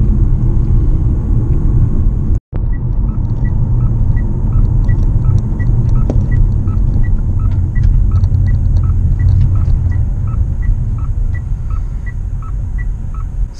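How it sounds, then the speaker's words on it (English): A plug-in hybrid car cruises at a constant 60 km/h, giving a steady low road rumble and hum from inside the cabin, with a short dropout partway through. "because we are only driving 60 kilometers anyway, I don't have to slow down here in the town"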